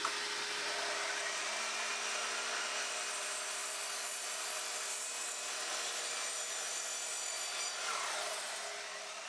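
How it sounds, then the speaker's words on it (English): An Evolution Rage 3DB multipurpose mitre saw cutting decking boards with its mitre function, a steady high whirring blade hum with a faint rubbing rasp of the cut, fairly quiet and continuous throughout. "Decking boards can be cut very easily on this machine simply by using the mitre function."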